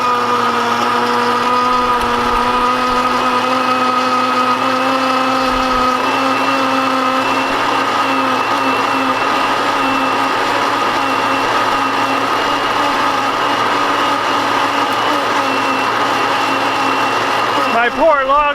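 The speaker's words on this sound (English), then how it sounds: "My poor, long-suffering Hamilton Beach blender still works." A well-worn Hamilton Beach blender that has ground many circuit-board chips runs steadily and loudly for the whole stretch, with a constant whining motor hum and layered harmonics, slowing slightly at the very end.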